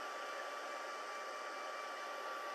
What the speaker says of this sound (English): And now I'm going to bring the heat tool in.